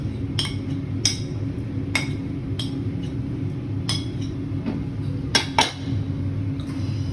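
Çiğköfte ingredients, including grated onion squeezed dry, pepper paste and tomato paste, are stirred in a bowl: scattered clinks and knocks of a utensil against the bowl over a steady low rumble, fairly close, with no talk.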